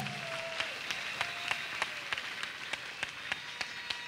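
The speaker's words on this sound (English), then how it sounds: "clap for the Lord once again" A church congregation claps together in a steady rhythmic beat, evenly spaced sharp claps over a broad crowd wash, with a sustained tone fading in the background.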